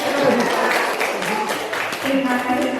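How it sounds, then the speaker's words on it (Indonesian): Indoor applause from a school gathering, a rough, broadband patter of many hands clapping mixed with voices talking over it throughout. "Tepuk tangan dong"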